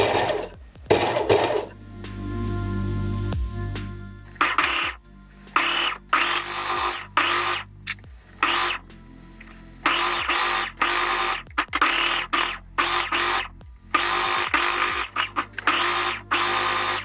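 A sewing machine stitches elastic onto a bodysuit in repeated bursts of rapid whirring, some short and some lasting a few seconds, broken by brief pauses, loud and close with no talking.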